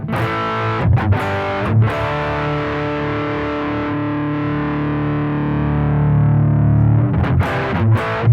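A sustained, compressed electric guitar tone through a Boss ME-25 compressor boost rings out with even, boosted sustain, bracketed by short picked notes at the start and end.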